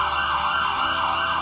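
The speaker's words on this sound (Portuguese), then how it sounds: "Imagina você escutando essa ambulância quando está dentro do carro, tudo parado." An ambulance siren wails steadily and loudly with a continuous rising-and-falling tone, heard alone from close by as if from inside a car in stopped traffic.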